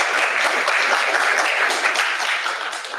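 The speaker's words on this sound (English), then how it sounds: "another round of applause for Mike Bunn." Audience applause after a talk on the Battle of Fort Blakeley, a dense, steady patter of many hands clapping for the full stretch, fairly loud and unbroken with no talk over it.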